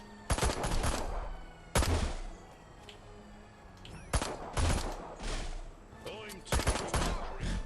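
Gunfire in the video game Destroy All Humans! Remake comes in several loud bursts of rapid shots with booming impacts, separated by short lulls, close and dominant.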